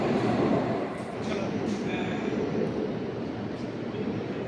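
An underwater metro train runs between Howrah and Esplanade in Kolkata, producing a loud, steady rumbling roar inside the carriage with faint hum and occasional higher tones.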